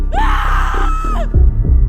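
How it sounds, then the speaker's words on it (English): A woman's scream of terror for a horror podcast, a loud rising shriek that holds and wavers for about a second before breaking off into low, throbbing rumbles. "With a scream of terror, Ada fled the house"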